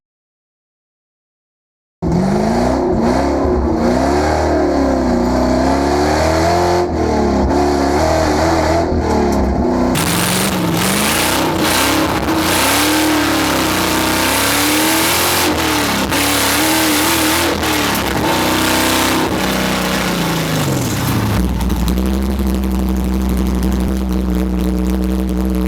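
A missile car engine revs hard through a second gear pull, loud and close, rising and falling in pitch as it accelerates, then easing back toward a steady idle near the end.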